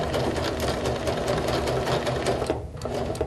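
A sewing machine stitches up to the edge of a glued piece, running at a fast, even clatter with a brief halt near the end before resuming.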